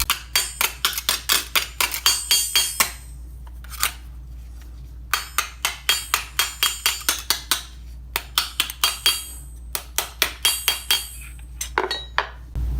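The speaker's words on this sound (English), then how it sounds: "Now we're at a stage where we're just doing the final planishing." A hammer planishes a steel armor sabaton on an anvil in rapid bursts of sharp, ringing metallic strikes, close and loud, with short pauses between runs.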